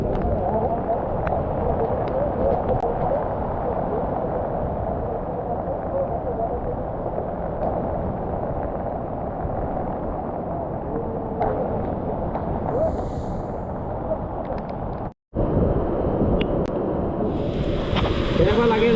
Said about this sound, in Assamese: বহুত ডাঙৰ ৱাটাৰফল, কেইবাটাও ৱাটাৰফল লগ লাগি আছে